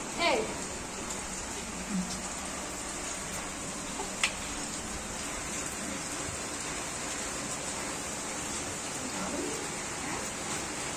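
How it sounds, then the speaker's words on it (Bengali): Steady rain falling beside a village pond, a continuous even hiss of drops throughout with a few faint ticks and distant sounds mixed in, no voices heard. "আজকে পুকুর পাড়টা পুরো বৃষ্টি হচ্ছে"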